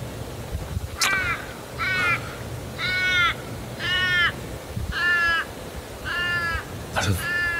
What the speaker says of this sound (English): That's a very noisy crow.